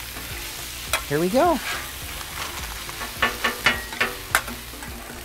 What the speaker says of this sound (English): we're still browning the ground beef, but these onions are kind of starting to get transparent